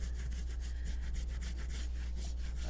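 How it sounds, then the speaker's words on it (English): Printmaking ink rollers squeak and rasp in a continuous back-and-forth scraping rhythm, close and steady, with no voices. "my rollers are squeaky."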